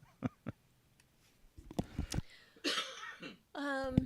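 Several sharp coughs, a couple of quick ones and then a short cluster, heard close up amid quiet talking.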